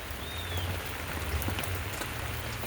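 Rain falling outdoors on succulent plants, a steady, even patter and hiss of drops with a faint low hum underneath and no voices.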